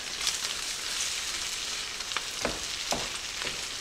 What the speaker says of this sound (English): while we're mixing this all together